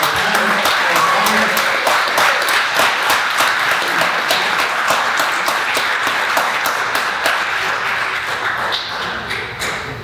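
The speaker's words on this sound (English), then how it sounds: "Give her a round of applause" Audience applause at a 12th grade high school graduation ceremony, a sustained crowd of clapping hands lasting throughout, steady and fairly loud, easing slightly toward the end.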